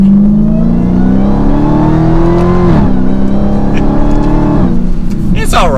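Dodge Charger SRT Hellcat Redeye engine pulling hard through first gear, then dropping pitch on the shift into second and climbing again, heard from inside the cabin with a steady loud drone and a brief talking voice at the end.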